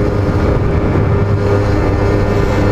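An Explorer Race GT 50 scooter engine labours up a steep hill, a steady droning hum that stays loud and even throughout with no talk.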